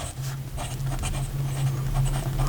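A fountain pen with a medium italic nib scratches softly across paper in short strokes, quiet and close, over a steady low background hum.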